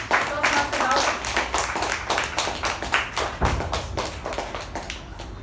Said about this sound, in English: with a huge round of applause, please help me welcome the president of our club